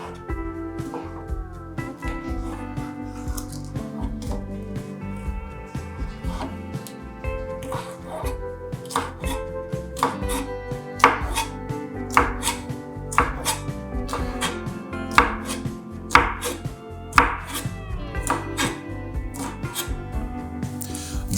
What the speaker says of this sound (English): slice the andouille sausage into bite-sized pieces